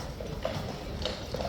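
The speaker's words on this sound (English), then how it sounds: "So watch those horses go in" Horse hooves clip-clop steadily on a hard surface as a group of mounted horses moves along, a close, continuous clatter with no talk over it.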